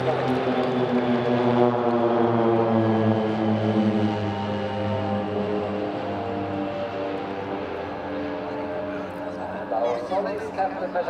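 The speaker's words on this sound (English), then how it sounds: "Captain Matthey here from the right is continuing with his solo presentation approaching looping, showing you the maneuverability of the PC-7 aircraft." A Swiss Air Force PC-7 single-engine propeller trainer flies a solo airshow display, its engine a loud sustained drone with a shifting pitch as it maneuvers, steady through the clip.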